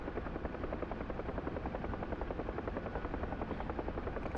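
A Huey helicopter in the DCS World flight simulator over the Persian Gulf, its rotor thumping in a fast, steady, loud rhythm with constant engine drone throughout, no voices.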